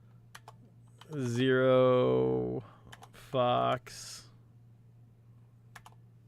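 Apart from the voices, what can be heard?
typing on a computer keyboard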